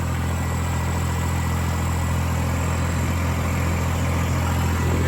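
Tractor engine running steadily at around 1600 rpm, a loud, close, constant low drone with a firm throbbing hum and no change in pitch, with no voices.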